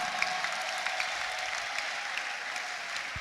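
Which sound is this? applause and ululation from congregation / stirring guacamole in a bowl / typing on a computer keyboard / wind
applause and ululation from congregation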